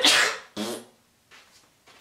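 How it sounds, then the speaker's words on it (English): A single loud, close sneeze with a sharp burst, followed by a couple of soft breaths. "I'm gonna sneeze."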